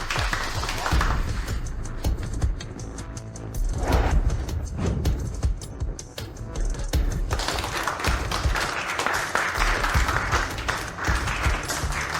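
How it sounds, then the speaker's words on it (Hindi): Audience at a jewelry design competition claps in a continuous, moderately loud patter of applause that holds steady throughout with slight surges. "आइए उन्हें तालियों की गड़गड़ाहट से स्वागत करें"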